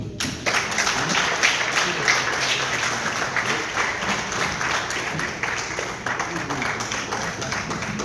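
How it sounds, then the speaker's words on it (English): Audience applauding at a health care symposium conference in Detroit, Michigan, a dense sustained round of clapping from a large crowd lasting throughout, steady and loud with no break. "give Dr. Tennessee a big round of applause."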